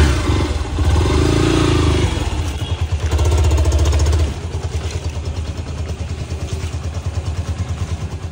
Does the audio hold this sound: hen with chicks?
no